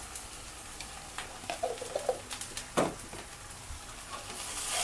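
Ginger paste sautéing in a pan, a soft steady sizzle with scattered scraping and stirring taps from a spatula, fairly quiet and close.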